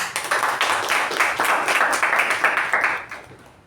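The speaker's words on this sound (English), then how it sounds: "A huge round of applause for our president." Audience applause at a club meeting, honoring the president: a dense crowd of clapping hands, loud and steady, then tapering off at the end.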